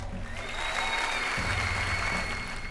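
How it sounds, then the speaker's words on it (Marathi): Applause sound effect in a narrated Marathi story about a paddy-ploughing race, a steady dense clapping of a crowd that runs at even loudness throughout with a low rumble beneath. "पार होताच टाळ्यांचा कडकडाट झाला."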